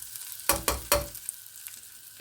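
Chicken and spices fry in a pot for pulao, with a few sharp stirring clatters over a soft, steady sizzle, close and fairly quiet.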